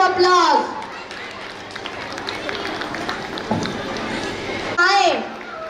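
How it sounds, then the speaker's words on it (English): Applause from an audience at a school annual function greets the students: a broad wash of clapping and crowd noise running under an announcer's voice. "Let's give them a big round of applause"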